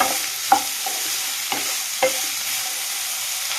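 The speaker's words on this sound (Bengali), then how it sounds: "দিয়ে দেবো পেঁয়াজ কাঁচা লঙ্কা সবগুলো একসঙ্গে আমি দিয়ে দিই দুটোকে ভালো করে ফ্রাই করে নিন" Onion and green chili being fried and stirred in a pan, with a steady close sizzle broken by a few sharp scraping clacks of the spatula against the pan.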